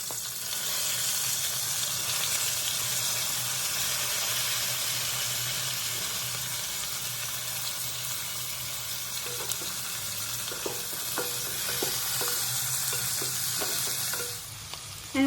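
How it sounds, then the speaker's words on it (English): Chopped onions sizzle steadily in a hot pan, a continuous hiss at moderate volume, with a spoon scraping and tapping in scattered bursts toward the end and no talk. "Now add the chopped onions."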